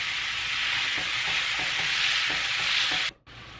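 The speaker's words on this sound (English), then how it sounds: "I'll break up that ground beef and get it mixed in with the potato mixture" Ground beef and potato mixture frying in a pan, a loud, steady close sizzle with soft rhythmic stirring taps, briefly cutting out near the end before resuming.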